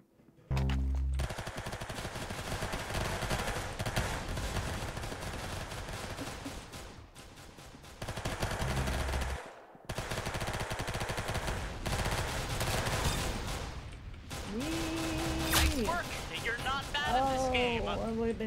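Rapid automatic gunfire rattles almost continuously through a match of the Roblox game Arsenal, with brief pauses and some electronic game effects near the end, while a player talks over it.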